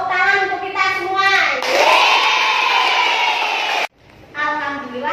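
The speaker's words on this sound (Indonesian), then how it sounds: "Tepuk tangan untuk kita semua." Schoolchildren in a fourth-grade class burst into a loud, steady round of clapping and cheering that runs for about two seconds. Children's voices and a teacher's talk come before and after it.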